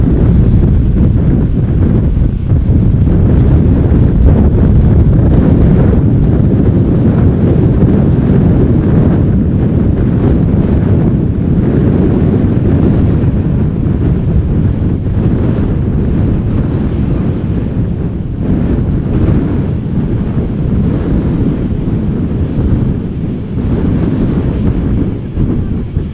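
Strong gusting crosswind at Amsterdam Schiphol Airport buffets the microphone, a loud continuous low roar with surging gusts throughout, no talk.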